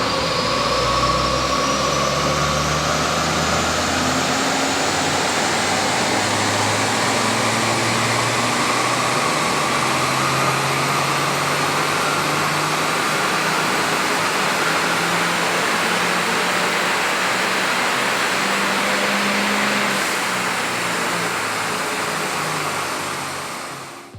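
Peugeot 206 with a 1.6 litre naturally aspirated four-cylinder engine running on a dyno, a loud sustained drone that climbs steadily in pitch as revs rise, then cuts off abruptly at the end.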